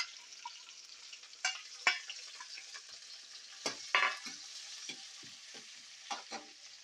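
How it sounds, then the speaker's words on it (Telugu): Onions and green chillies fry in a hot pan, a steady soft sizzle broken by several sharp scraping stir strokes from a spatula, close and moderately loud with no talking. "ఇందులో ఉల్లిపాయ ముక్కలు వేసుకుంటున్నా"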